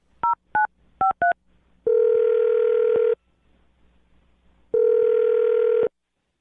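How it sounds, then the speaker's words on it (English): Telephone keypad dial tones beep in a quick series of four short notes, followed by two long steady ringback tones with a gap between them, clear and close. "I'm gonna dial her number."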